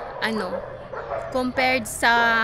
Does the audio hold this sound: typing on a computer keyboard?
no